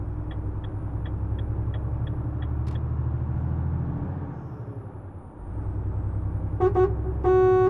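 In Euro Truck Simulator 2 with a Renault Range T sound mod, a diesel engine idles with a low rumble and faint ticking, then a loud horn sounds in two bursts near the end.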